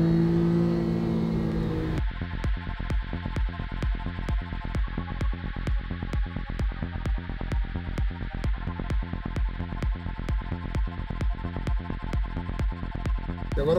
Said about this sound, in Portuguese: Dá para ouvir o motor trabalhar com a gente aqui